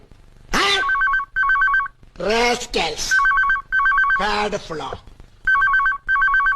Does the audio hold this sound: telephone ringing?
yes